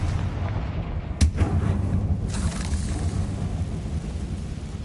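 A Confringo fire spell bursts in Hogwarts Legacy, a sharp blast followed by a brief rumbling boom that fades, set against a steady low game background hum.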